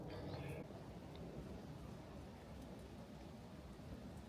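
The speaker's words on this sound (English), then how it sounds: "There's rain coming down hard somewhere here in the forest" Hard rain falls in a forest near a round house in the Netherlands, a faint, steady patter and hiss with a soft wind-like rush underneath and no talking.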